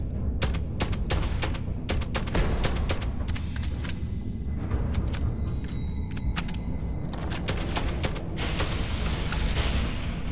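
Rapid bursts of gunfire crackle through a Starfield firefight at the Maya Cruz mine, dense and continuous sharp shots layered over a constant rumbling background, fairly close and loud.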